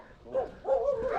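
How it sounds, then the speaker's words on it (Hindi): Dogs bark and yip from inside houses in a village near the Mongolian border, a few short, muffled calls at moderate distance in quick succession. "घरों के अंदर से कुत्तों की आवाज़ आ रही है"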